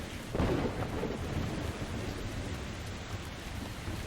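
Heavy rain pours down during a storm in the video game Metro Exodus, opening with a loud thunder crack that settles into a steady, dense hiss of rainfall.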